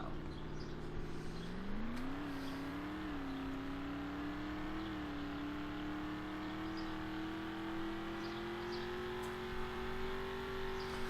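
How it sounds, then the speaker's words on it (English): A Prius GT in the Roblox game Ultimate Driving accelerates from a standstill to full speed, its engine note climbing steadily and whining higher over about eleven seconds, loud and continuous with no talk. "So we are going to do this acceleration from 0 to 100 and full speed in 3, 2, 1, go"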